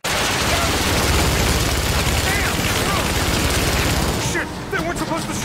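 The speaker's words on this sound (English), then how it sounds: "They weren't supposed to shoot at us!" Sustained heavy gunfire from militia in GTA, a dense unbroken roar of automatic fire and shots that stays loud for about four seconds before easing slightly, with voices faintly mixed underneath.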